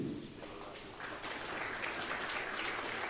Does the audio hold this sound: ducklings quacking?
no